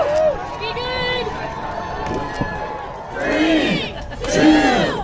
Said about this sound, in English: this was this massive crowd of people yelling and cheering